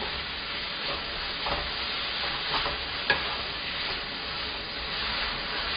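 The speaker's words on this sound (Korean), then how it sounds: "재료를 볶은 후에 양념이 잘 스며들 수 있도록 다시 한번 볶아주세요" Udon noodles and other ingredients stir-fry in a pan for yaki udon, a continuous close sizzle with repeated rhythmic swishes and scrapes of tossing and one sharper clack, no speech.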